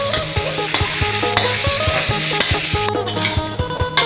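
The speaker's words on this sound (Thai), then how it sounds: "ผัดหมูให้สุกนะครับ" Loud, steady sizzling of pork and garlic stir-frying in hot oil, with repeated scraping and clanking of a utensil stirring in a wok throughout.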